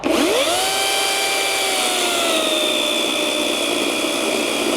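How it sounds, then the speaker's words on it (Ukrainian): A ProCraft PCA42/2 cordless battery chainsaw revs up and cuts under load with the chain fully buried, giving a loud, steady high-pitched whine that holds its pitch for several seconds, close and without speech. "І давайте попробую пилку завантажити."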